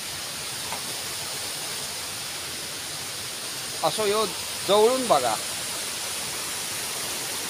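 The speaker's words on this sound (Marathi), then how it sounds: "आपण इलेलो आहो ओझर गुंफेतील धबधब्याच्या ठिकाणी" Steady, full-bodied roar of the waterfall inside Ozar cave near Malvan fills the whole stretch, with someone speaking briefly over it near the middle.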